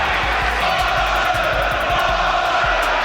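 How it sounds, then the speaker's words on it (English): A boxing match crowd roars continuously, a loud, dense wall of cheering and shouting voices with no clear gaps. "Well, the crowd."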